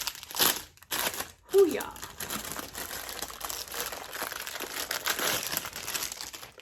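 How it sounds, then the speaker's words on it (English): Packaging of a makeup brush set being ripped open, a sharp tearing rip followed by continuous crinkling and crumpling of plastic close by, while a person talks and cheers. "Let's rip her open."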